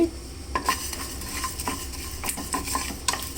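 Masala powder fries in a pan for a mango fish curry, a close sizzle under repeated scraping stirs of a spoon against the pan, with clinks of metal and no talking.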